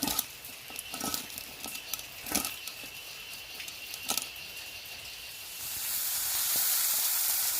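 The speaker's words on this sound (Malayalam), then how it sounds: "അത്യാവശ്യം എണ്ണ ചൂടായിട്ടുണ്ട്. അതിലേക്ക് കൂടെ മീനൊക്കെ അങ്ങോട്ട് എടുത്തിടുക." Fish frying in hot oil gives a steady, close sizzle and hiss, with a few sharp clinks early on, then swells louder and denser toward the end.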